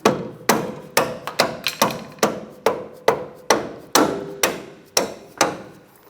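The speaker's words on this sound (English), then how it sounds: "And with that bolt started, just tap it in." Repeated hammer taps drive a bolt into the front strut mount of a 1997-2001 Honda CR-V during strut replacement, about a dozen sharp metallic strikes in a steady, slightly uneven rhythm, close and clear with no talking.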